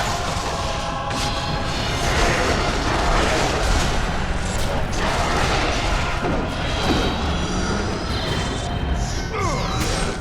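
Charge shot blasts in the 2005 God of War finale, loud and constant, a dense rumble of impacts and crashes with sharp spikes, filling the whole span without letup.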